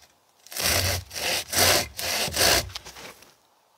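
A Silky folding saw cuts firewood for a stove: five rhythmic rasping strokes of the blade through wood, close and clear, before a brief pause.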